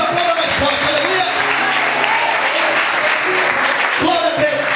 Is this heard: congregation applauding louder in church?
yes